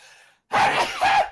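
One short, loud human sneeze bursts out of near silence with a sharp inhale and a two-part explosive release, heard alone.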